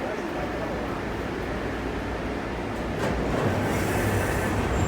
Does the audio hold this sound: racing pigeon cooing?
no